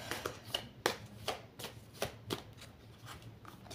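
A deck of oracle cards being shuffled, a run of sharp close riffling bursts in an irregular rhythm, fairly quiet, with no talking.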